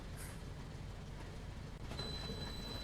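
A train in the Train Simulator Pro USA game creeps along at about 10 mph, a continuous low rumble of rolling stock with faint rattles and a thin high whine appearing near the end.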